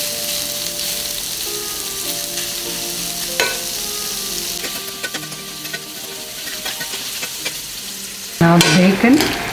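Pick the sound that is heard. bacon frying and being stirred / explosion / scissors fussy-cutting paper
bacon frying and being stirred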